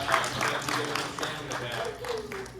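Audience applause at a realtor panel event in Hampton Roads, a steady wash of clapping from a crowd lasting the whole moment, with some voices mixed in underneath.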